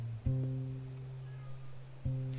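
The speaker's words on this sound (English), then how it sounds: "I hear a meow." A cat in the video game Red Dead Redemption 2 meows twice, a clear tonal cry near the start and another about two seconds later, over a quiet ambient background.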